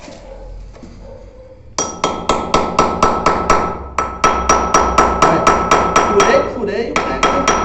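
A hammer drives a nail into hard concrete on a porcelain-tile installation job, with a long run of sharp, evenly spaced metallic strikes, loud and close, and no talking.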